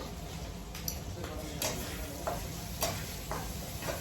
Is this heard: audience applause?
no